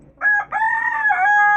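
A hen perched on a rooftop gives one drawn-out, close, clear call of about a second and a half, with no other sounds around it.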